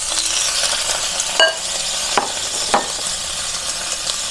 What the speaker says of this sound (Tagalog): pababrown natin yung yung ating pork kasabay ng ating bawang at sibuyas